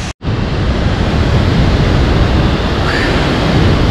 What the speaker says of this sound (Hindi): यहाँ पे देखिए वाटर फ्लो बहुत सही यार, बहुत सही।